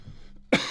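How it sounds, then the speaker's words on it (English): A man gives one sharp, loud cough right into a close microphone after a brief quiet moment, the burst trailing off into a rough exhale. "I don't like coughing into the mic"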